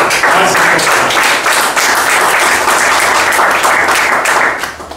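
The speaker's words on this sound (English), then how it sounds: "So let's give thunderous applause" A club meeting audience breaks into loud, sustained applause, many hands clapping close by for about five seconds before it fades at the end.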